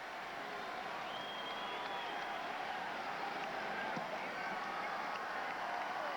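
Crowd noise at a 1984 American League Championship baseball game between the Detroit Tigers and Kansas City Royals, a steady distant roar with faint whistles and cheers rising now and then, with no clear speech over it.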